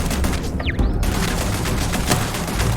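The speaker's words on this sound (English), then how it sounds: "Oh, that's a turret?" Rapid, loud turret fire in Starfield, a dense fusillade of shots hammering on for several seconds, with a brief whooshing effect near the start.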